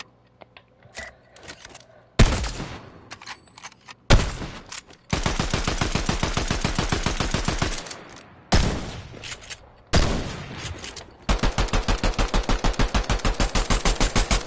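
Pistol gunfire in the Fortnite video game: several loud, close bursts of rapid shots, each run of sharp cracks separated by short pauses, with no voices.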